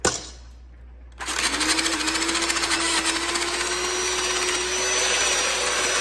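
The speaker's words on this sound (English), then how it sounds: "Get your mixer." An electric hand mixer starts after a short lull and whirs steadily and loudly, beating banana cake batter with eggs, its motor tone rising slightly as it runs.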